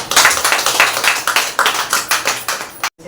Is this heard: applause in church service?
yes